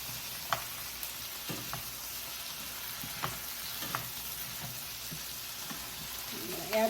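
Food sizzles in a hot pan while a utensil stirs it, a low steady fry broken by soft scraping knocks every second or so, quiet and close.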